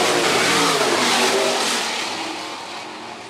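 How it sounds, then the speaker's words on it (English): Sprint car engines roar loudly as they refire and rev at Phillips County Raceway, a dirt track, a dense, harsh blare that slowly fades as the cars pull away. "About to refire the sprint cars here at Phillips County Raceway"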